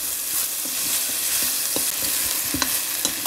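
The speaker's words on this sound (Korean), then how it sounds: "지금 맛있게 익는 소리가 나요" Chicken pieces sizzle and fry in a pan for sweet-and-spicy chicken cooked without deep-frying, a steady crackling hiss with irregular clacks and scrapes as the pieces are stirred and turned, close and continuous, with no talking.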